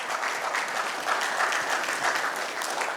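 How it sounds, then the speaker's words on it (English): An audience at a company event breaks into sustained applause, a thick, even roar of many hands clapping with no talk over it. "A big round of applause for all of them."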